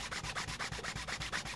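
Steady back-and-forth rubbing strokes, a soft rhythmic sanding scrape repeating about every fifth of a second, close and quiet, as a Swan SW1248M saxophone mouthpiece is reshaped.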